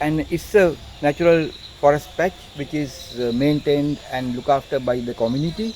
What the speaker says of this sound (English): there's some crickets calling